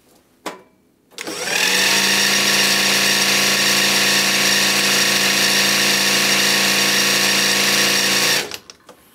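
A servo motor runs flat out at about 1700 RPM, a loud, steady whine with a constant pitch that starts abruptly, holds for around seven seconds and then cuts off.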